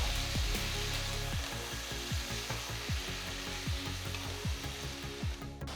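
Roughly cut tomatoes hit hot oil with cinnamon, cloves, fennel seeds and a bay leaf for a restaurant-style veg curry, giving a loud steady sizzle and crackle with repeated stirring scrapes throughout.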